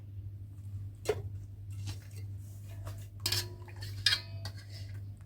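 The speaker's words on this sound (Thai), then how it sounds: "เราจะตักเนื้อออกก่อนเลยค่ะ" A spoon scoops the flesh from Thai wild mangoes (mamuang hao), a few close scraping clinks against a dish, spaced over a steady low hum, with no talk.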